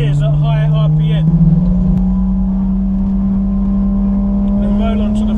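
A BMW 335i with an N55 engine, big turbo and ZF 8-speed gearbox accelerating, a loud, steady engine drone that shifts once and then climbs in pitch, close and inside the car.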